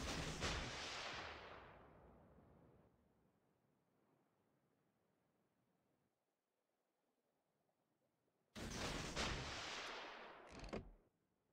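Warship guns firing in World of Warships, a loud blast at the start decaying into a long rumbling tail, then quiet, then a second heavy burst of gunfire near the end.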